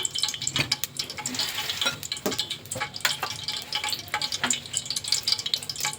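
Whole garam masala spices crackling in hot ghee for chicken biryani, a close, steady sizzle broken by frequent sharp pops and spits throughout.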